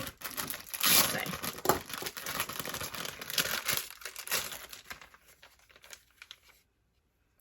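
Packaging crinkles and tears open around a gold foil face, lip and eye mask set, close and fairly quiet, with bursts of rustling and crumpling that thin out toward the end and stop in near silence.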